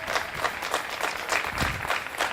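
An audience applauds Bill Shine at a staff recognition gathering, a dense, steady wash of many hands clapping that holds evenly from start to finish.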